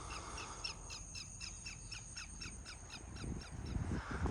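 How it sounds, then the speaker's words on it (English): Several crows caw over and over in a rough repeating rhythm at a coastal state park nesting area on the marshy shore, with a faint low rumble and scattered noise rising near the end. "the birds have taken this area over, so good place to come out and watch birds"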